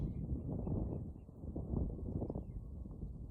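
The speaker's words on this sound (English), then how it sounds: "It's also very windy." Wind blowing by the River Great Ouse near Ely, a continuous low buffeting rumble that gusts up and down across the whole stretch with no clear other sounds.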